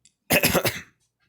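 A single short, rough throat clearing, close and fairly loud, over quickly and surrounded by silence.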